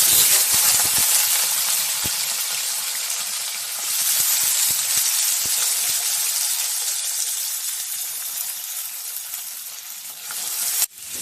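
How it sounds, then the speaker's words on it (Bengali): Potatoes and jackfruit seeds fry in hot oil with a loud, steady sizzle and hiss, broken by occasional clicks and stirring scrapes, with a sharp clatter near the end. "আমি আলু আর কাঁঠালের দানাটা একটু তেলে ভেজে নিয়েছি হালকা করে।"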